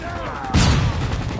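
Grenade blasts and gunfire in a Hardpoint match of a first-person shooter game, a sudden booming burst with rattling shots over steady game noise and a voice.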